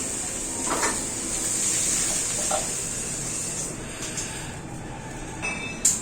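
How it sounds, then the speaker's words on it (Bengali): Chana dal bubbles in a pot of khichuri, a steady close simmering hiss with soft pops that holds evenly for several seconds, no voices. "টক ভক করে ছোলার ডালটা ফুটছে"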